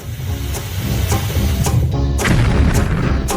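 A cartoon explosion effect in a food-fight kitchen scene: a dense rumbling blast with several sharp bursts and hissy crackles layered over it, loud and sustained throughout.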